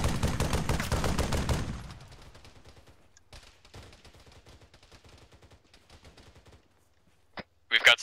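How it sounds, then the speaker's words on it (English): Gunfire in a military video game, a loud burst of rapid shots up front, then scattered single cracks at a distance under voices talking on radio. "We've got sniper fire on us."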